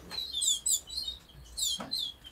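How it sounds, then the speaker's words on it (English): Young canary chicks in a breeding cage give faint, high, thin chirps in quick clusters, fairly quiet against a low background hum. "Four young canaries there."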